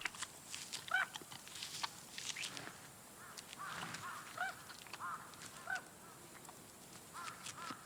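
Geese and other birds in a Russian forest honk and call at a distance in scattered bursts, faint against a steady outdoor hiss, with no one speaking.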